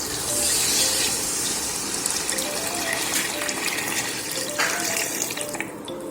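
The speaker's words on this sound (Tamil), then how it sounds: "நம்ம தண்ணியை கட்டிக்கலாம்." Water poured from a tap into a pot for chicken dum biryani, a loud, continuous gushing stream that fills the whole stretch and eases off slightly near the end.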